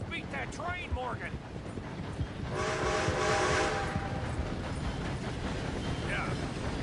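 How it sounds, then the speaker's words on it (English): A passing train in the video game Red Dead Redemption 2 swells into a loud, broad rumble with a tonal horn-like blare midway, while urgent voices shout over it before and after. "Gotta beat that train, Morgan!"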